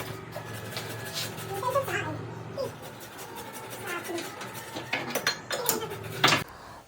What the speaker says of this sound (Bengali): তো ফার্স্টে আগে আলুটাকে কুড়ে নেবো।